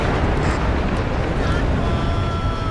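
Rocket artillery explosions in the video game WARNO: a loud, dense wall of rumbling blasts that roars without a break across the short stretch.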